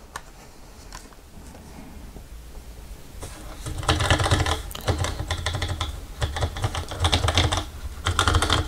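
Typing on a Cherry G84-4100 slimline 83-key keyboard with Cherry ML switches: sparse clicks at first, then rapid dense bursts of shallow, clacky keystrokes, close and distinct with no talk.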